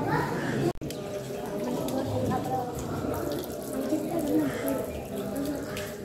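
Drinking water runs from a tap at a crowded shrine, a steady watery splash under the murmur of voices and children in the background.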